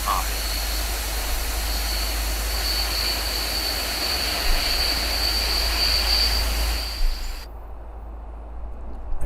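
Jet engines roar in Tower Simulator 3 as aircraft at a runway spool up for takeoff, a steady loud whine and rumble under radio talk, dropping off abruptly near the end.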